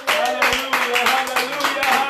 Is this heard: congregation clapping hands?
yes